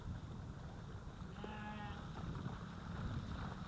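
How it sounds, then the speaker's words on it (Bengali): Sheep bleat briefly among a herd of cattle on a sloping riverbank, a single wavering bleat rising over steady wind and outdoor rumble, moderately distant. "এখানে ভেড়াও আছে, ভেড়াও ব্যা ব্যা করতেছে।"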